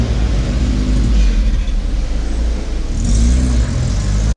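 A classic Mini drives steadily out of a car park, its small engine giving a continuous near rumble that swells slightly toward the end before cutting off abruptly.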